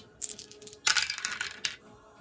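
Several dice clatter and tumble onto a hard surface in a bursty, rattling roll during a World War II strategy board game, with crisp clicks close by and no talking.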